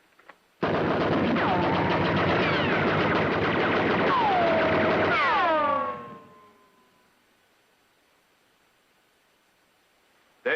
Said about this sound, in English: Are you sure we're safe from the bullets here?